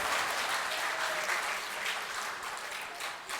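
Dense, steady audience applause at an All India Mushaira poetry gathering welcoming poet Naeem Akhtar Khadmi, heard alone, slightly distant and unbroken from start to finish.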